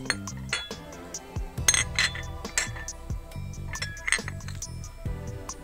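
Riga porcelain cake plate and saucer clinking together as they are set out, several bright, ringing taps and scrapes of china at close range, spaced irregularly with no talking.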